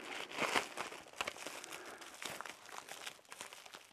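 Close crinkling and rustling of a folded Blizzard survival bag as it is unfolded, a continuous crisp crackle of thin foil-like material with louder crunches at the start.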